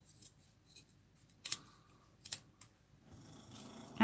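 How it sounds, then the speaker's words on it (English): Scissors cut the edge off a strip of decorative trim in a few crisp, close snips spaced apart, quiet handling noise between them and no talking. "Realistically, I'm going to cut the edge off this though."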